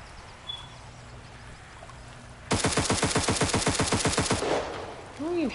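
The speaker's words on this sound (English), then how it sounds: "Who are you shooting at?" Automatic gunfire in Cuisine Royale rattles out in a fast, loud burst of rapid shots lasting about two seconds after a quiet stretch, with no voices over it.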